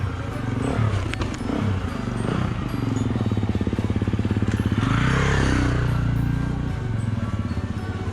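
Off-road motorcycles passing on a mountain trail in Snowdonia, a loud rising and falling engine drone with rough revving that swells near the middle, mixed with wind rush and rattling from a moving electric mountain bike.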